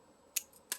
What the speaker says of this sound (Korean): 균 묻지 않게 살살 잘라주시면 돼요.